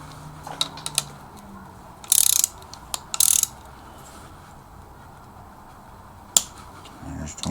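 Ratchet wrench clicking while tightening bolts during an LS2 engine build in a workshop, with a few short bursts of ratcheting and scattered metallic ticks, close and fairly loud, with no talk over them.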